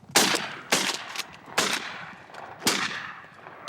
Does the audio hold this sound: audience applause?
no